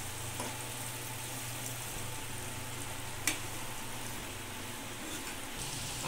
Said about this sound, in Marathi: त्यानंतर चवीपुरते मीठ टाकून हे सर्व परतवून घेऊया।